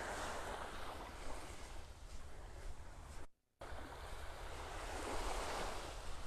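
Surf on Vanderbilt Beach in North Naples, Florida rolls in as a continuous broad wash of waves with wind rumble on the microphone, steady and fairly close, broken by one brief dropout.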